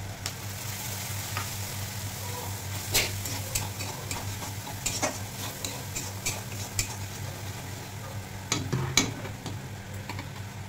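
Powdered spices fry in hot oil in a pan for a Bengali chicken and green jackfruit curry, giving a steady close sizzle with scattered clicks and scrapes from a stirring spoon and no one speaking.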